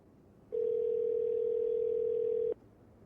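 A telephone dial tone in the video game No I'm Not a Human, a single steady electronic hum that starts abruptly, holds loud and unbroken for about two seconds, then cuts off cleanly with no talking.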